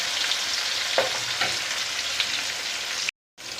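Katla fish frying in hot oil, a dense steady sizzle close up with a few soft stirring knocks, cut by a brief moment of silence near the end.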